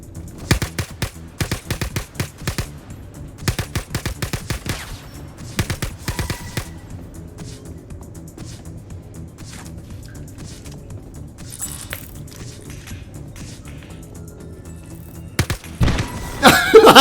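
Rapid bursts of video game gunfire crackle through the first seven seconds in dense automatic volleys, then thin to a low background hum before a few louder shots return at the end.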